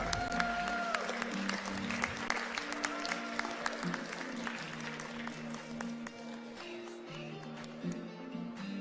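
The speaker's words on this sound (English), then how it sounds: "So let's applaud, let's cheer, let's support them." An audience applauds at a VEX IQ robotics competition final in Slovenia (Slapshot game), with steady, dense clapping at a moderate distance and a faint sustained tone underneath.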